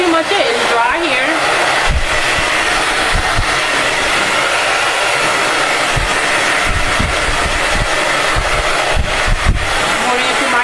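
Hair dryer blowing on genie locs and yarn braids, a steady close whoosh running the whole time with low thumps as it moves through the hair.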